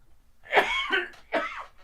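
Two close, harsh coughs in quick succession, fairly loud and near, with no talking.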